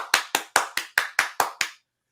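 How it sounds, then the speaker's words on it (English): Eight crisp, evenly spaced hand claps from a single person, close and distinct in a quick steady rhythm, then silence. "I'm gonna clap for y'all."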